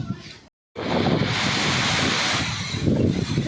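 Strong wind roars at a petrol pump while rain pours down, a dense rushing wash that cuts out briefly and then surges back loud and steady.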